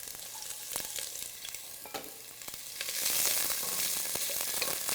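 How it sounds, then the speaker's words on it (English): Diced onions go into hot oil for a carrot ginger soup, with a few knocks and stirring scrapes before the sizzle rises to a loud, steady hiss. "Our oil is probably about hot enough to go ahead and add the onions."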